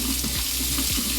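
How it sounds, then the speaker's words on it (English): Tap water runs steadily into a sink while a makeup brush is rinsed under it, a continuous close splashing flow with no talk. "then we rinse. Again, making sure not to get the water up too high."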